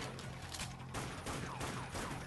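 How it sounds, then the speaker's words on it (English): A chain of explosions in the Dead Nation video game sets off dense, crackling blasts one after another. The bursts blur into a continuous rough roar that stays fairly quiet throughout. "Oh my god, it's a chain reaction. Each explosion triggers the next."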